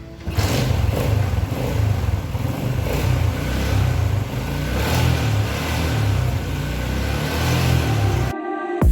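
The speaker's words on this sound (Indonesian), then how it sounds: "Sekarang kita akan tes jalan sepeda motor berbahan bakar LPG menggunakan intercooler" An LPG-fuelled motorcycle fitted with an intercooler runs steadily on a test ride, its mid-pitched engine droning loudly and close with slight rises in revs, then cutting off abruptly near the end.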